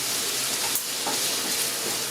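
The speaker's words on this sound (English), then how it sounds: "Alright, our oil is hot. You can see it's shimmering. I'm going to add the onion." Chopped onion hits hot shimmering oil for a turmeric chicken casserole, a bright, continuous sizzle with bursts of crackling, loud and close, with no talking.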